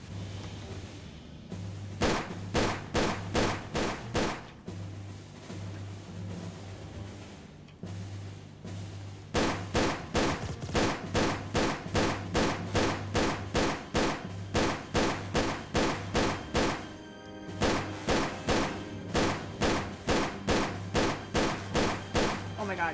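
Tomb Raider video game gunfire rings out in rapid, evenly spaced shots, grouped into long bursts with brief pauses between them, loud over a low droning background.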